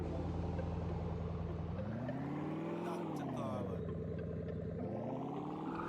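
A Ford Mustang engine in the racing game EdgeRun drives through the Mountain Pass map, droning loudly and steadily, with revs climbing, dropping and rising again through gear changes.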